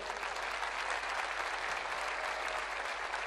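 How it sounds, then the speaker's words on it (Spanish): Broad, steady applause from a festival crowd at Cosquín 2024 greeting the guitarist of the winning instrumental group, a dense even wash of clapping heard from some distance with a low hum beneath. "fuerte el aplauso"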